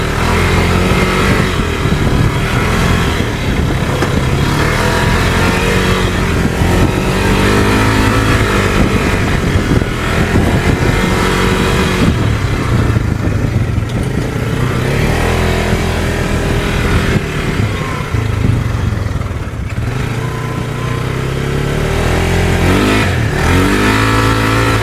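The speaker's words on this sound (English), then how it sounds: "Little 570 rips it." A cheap used UTV with a 570 engine revs and roars continuously for nearly half a minute, loud and close, the engine note rising and falling as it accelerates, with no talking.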